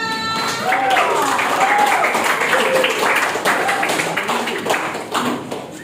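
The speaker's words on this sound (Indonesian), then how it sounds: "tepuk tangan buat kita semua" Students in a junior high school classroom clap together in a sustained round of applause, dense and steady for several seconds, with excited voices and chatter mixed in.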